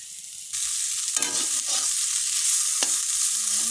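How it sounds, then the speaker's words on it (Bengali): Green chillies fry in raw mustard oil in a home kitchen, a steady close sizzle that starts suddenly and carries on alone, with occasional scraping and stirring clatter. "কাঁচা সর্ষে তেল কাঁচা লঙ্কা ভাজা হচ্ছে"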